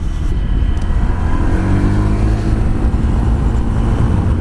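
A Honda PCX 125 scooter rides through city streets, its small engine droning loud and close with a rising and falling pitch as it accelerates, under wind and road noise.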